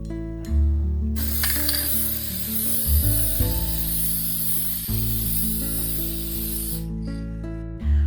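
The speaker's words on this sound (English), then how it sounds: "This is an aerosol spray." An aerosol can of varnish hisses in one long steady spray over an oil painting lasting several seconds, with clicks and rattles just before and after it.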